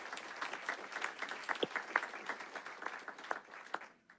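Applause from the audience at a school board meeting honoring district staff, a steady, moderately distant patter of many hands lasting about four seconds, fairly soft and without voices.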